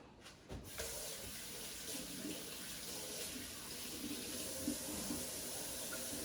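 Tap water pouring steadily into a sink while hands are washed in a kitchen during cooking, a continuous close hiss and splash after a brief quiet start, no speech.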